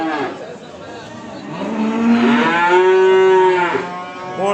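Calves at the Beylagan livestock market let out a loud, drawn-out moo close by that rises and falls, over a steady murmur of market noise.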